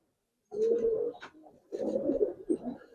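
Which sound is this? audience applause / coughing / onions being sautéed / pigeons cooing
pigeons cooing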